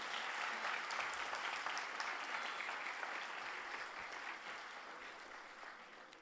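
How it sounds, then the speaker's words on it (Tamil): A large audience applauds steadily for a comedic speaker at a book festival in Tiruvallur, a dense, sustained wall of clapping that tapers slightly toward the end without any talk. "இந்த கைதட்டு 10 அக்காவுக்கு"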